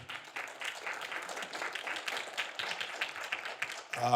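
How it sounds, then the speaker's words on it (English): An audience at a community lunchtime conversation event bursts into applause, a brief and moderately loud patter of many hands clapping, with voices mingling in. "Please, a round of applause for him."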